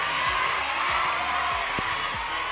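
A crowd at a Clash of Champions final cheers and whoops in a loud, continuous wash of noise, with a few rising shouts cutting through.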